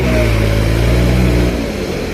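Tractor engine revving hard while stuck in mud, a loud, steady harmonic roar that drops in pitch and eases off near the end, with no talking.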